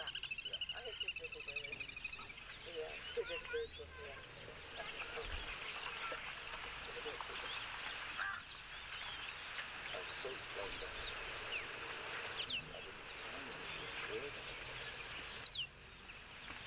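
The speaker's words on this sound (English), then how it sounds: "I heard this little bird." Small birds chirp and twitter in quick, high bursts against an outdoor background, with faint voices murmuring underneath.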